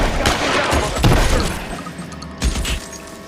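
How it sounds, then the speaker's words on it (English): Loud bursts of gunfire crack through a shootout in the L.A. Noire video game, with heavy shots near the start, around one second and again near two and a half seconds over a dense, noisy battle backdrop. "Somebody put some fire on that guy!"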